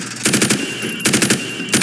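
Gun fired from the hip at targets on a shooting range in Call of Duty Modern Warfare Remastered, three loud bursts of rapid automatic shots separated by short pauses, with no talking.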